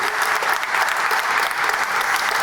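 A crowd at a city hall ribbon cutting for a gender-inclusive restroom applauds the mayor, a dense, steady wash of clapping holding at an even, fairly loud level throughout.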